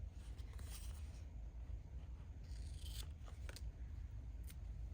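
Faint, close snips of scissors cutting the ends off washi stickers at a craft table: a few soft crisp clicks spread across a quiet background.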